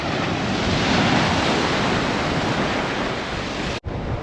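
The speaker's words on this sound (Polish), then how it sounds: "ale są fale duże" Loud, continuous roar of large ocean waves breaking close by at a beach, a steady wash of rushing water with wind noise, ending in a brief cut.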